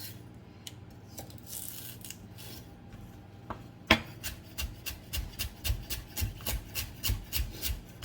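A knife trims the ends off onions for a lentil stew, giving a soft rubbing scrape, then a sharp cut near four seconds followed by a steady run of about a dozen rhythmic, close chopping taps on a board.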